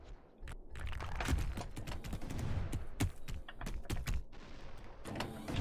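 Cannons in the Davigo VR game fire in a dense barrage, a close run of sharp cracks and thuds layered over each other for several seconds, loud and busy with no talking.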